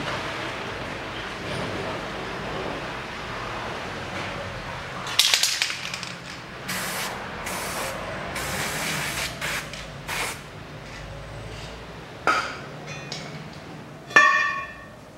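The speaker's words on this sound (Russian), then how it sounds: "Сразу смажу болт." Short bursts of aerosol lubricant sprayed onto a bolt while replacing the front lower ball joint on a 2005 Peugeot 407 1.8, with several quick hissing sprays over garage background noise and a few metallic clinks.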